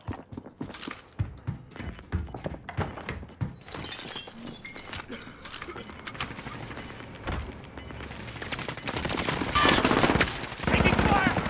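Gunfire in Call of Duty Modern Warfare rattles in repeated automatic bursts with sharp impacts and breaking sounds, close and busy, building louder toward the end under in-game voice lines.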